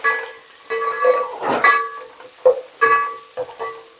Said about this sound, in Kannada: ಈರುಳ್ಳಿ ಎಲ್ಲ ಚೆನ್ನಾಗಿ ಫ್ರೈ ಆಗಲಿ